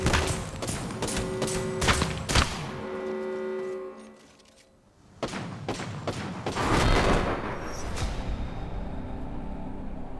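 Gunfire rattles through an Apex Legends match in rapid bursts and sharp close shots, with booming thuds and impacts between them, then a short lull before a new heavy volley of shooting.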